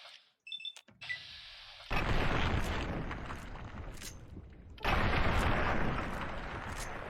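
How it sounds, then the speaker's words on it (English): Two loud shotgun blasts from the video game Fallout 3, each a sharp boom with a long rumbling decay, the second about three seconds after the first, preceded by brief clicks and metallic handling. "Oh my god, the sound of the shotgun."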